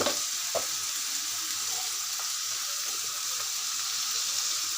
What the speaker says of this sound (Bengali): এগুলো এখন আমি ভালো করে কষিয়ে নেব